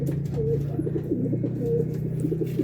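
Several pigeons in a racing loft coo steadily and close by, overlapping low throaty calls running continuously with no talking.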